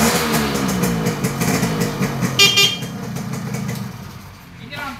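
A Yamaha V80 motorcycle engine runs close by with a steady, rumbling idle throughout, loud and continuous, while people talk over it.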